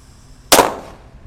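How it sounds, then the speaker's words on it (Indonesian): A single sharp bang from an unwrapped 'kera raja' firecracker goes off close by in the rain, loud and sudden, with a short fading tail after a quiet moment. "Selanjutnya ini ada mercon kera raja yang belum dibuntel ya."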